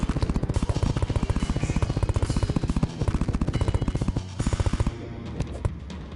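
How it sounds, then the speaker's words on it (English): Rapid automatic fire from a SCAR-H rifle in the video game Terraria, a steady stream of loud shots for about five seconds that then stops, followed by quieter game sounds. "I think it's actually a SCAR H."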